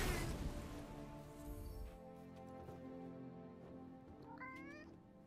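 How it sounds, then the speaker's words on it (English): A cat in the video game Forspoken meows, with a soft rising call near the end after a noisy opening burst, heard close over quiet ambient game sound. "We do need to say hello to the cat."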